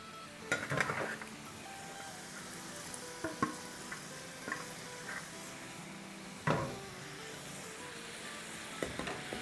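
Potatoes go back into hot oil for a second, crisping fry for aloo chaat, a quiet, continuous sizzle punctuated by scattered clinks and scrapes of a utensil against the pan.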